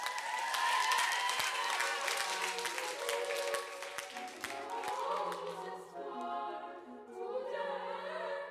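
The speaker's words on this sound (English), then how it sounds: "Give yourselves a round of applause." Young choir singers receive applause after singing Handel at Oxford: a burst of clapping and some cheering fades out across the first half, then children's voices and chatter take over.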